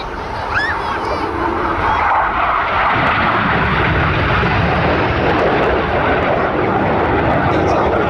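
Red Arrows jets performing an aerobatic display manoeuvre at the Midlands Air Festival, a loud, continuous jet roar that swells and fills the whole stretch as they pass overhead.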